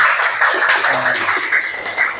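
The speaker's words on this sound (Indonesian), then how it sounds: "Oke, tepuk tangan." Classroom of students clapping their hands together, a steady, fairly loud patter of many hands throughout, with faint voices underneath.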